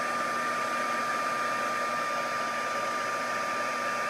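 A heat gun blows steadily to heat-set embossing powder on a hand-stamped card, a continuous close whirring roar with a faint whine, unchanging throughout and with no voices.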